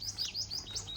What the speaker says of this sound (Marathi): पक्ष्यांचाही असा मस्त कालवा चावलाय